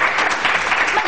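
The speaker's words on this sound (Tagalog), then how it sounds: "3, 2, 1, palakpakan!" Studio audience for a comedy talk show breaks into dense, loud applause on cue, a continuous wash of many hands clapping with no voices over it.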